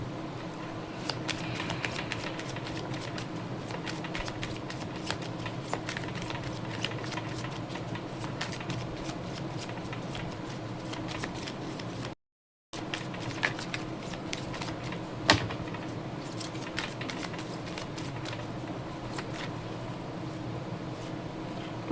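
Tarot cards shuffled by hand during a reading, with a continuous soft riffling and rustling of cards, a brief break partway through, then more steady shuffling.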